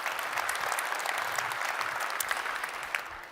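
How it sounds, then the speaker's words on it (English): Audience at a technology conference applauds after the opening welcome, a steady wash of many hands clapping, moderately loud and continuous, tapering slightly at the end. "A round of applause, please."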